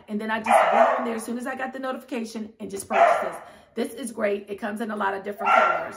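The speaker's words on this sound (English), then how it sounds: "Excuse my dog. She is having a fit." Someone talks steadily while a dog barks repeatedly indoors, the loud yaps breaking through her speech in several bursts.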